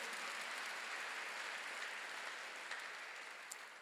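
A church congregation claps in a steady wash that sounds distant and fairly soft, fading slightly toward the end, with no voices over it.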